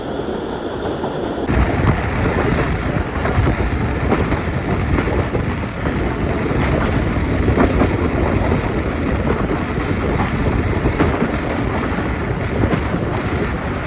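Marvi Express passenger train running on rails in Pakistan, a loud continuous rumble and rattle heard from on board, steady throughout with no talk.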